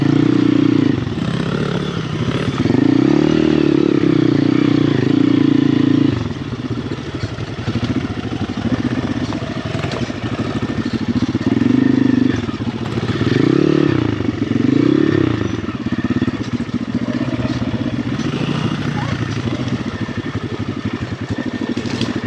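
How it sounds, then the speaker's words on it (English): An XR dirt bike engine runs while being ridden uphill. Its steady, fairly loud motor drone rises and falls in pitch with the throttle, with some clatter and scraping mixed in. "Almost sounds like the bike's in second."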